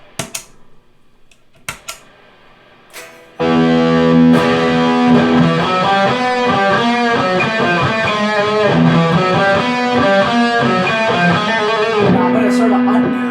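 Electric guitar played through a Marshall JCM 800 distortion pedal, with a few muted pick scrapes and clicks before a thick, loud, sustained distorted chord riff kicks in and rings continuously.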